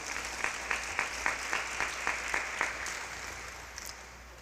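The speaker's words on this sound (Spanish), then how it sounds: "Démosle un fuerte aplauso al Señor." A church congregation gives rhythmic applause to the Lord, a faint, even run of claps at a steady beat that trails off into near silence.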